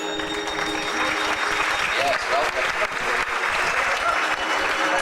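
A crowd applauds steadily and loudly throughout, with a voice speaking over the clapping.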